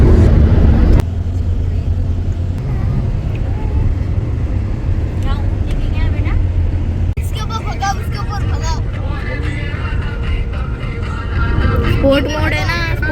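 A car driving in sport mode on a desert highway between Madina and Dammam, with a steady loud engine and road roar throughout and people talking over it in the cabin.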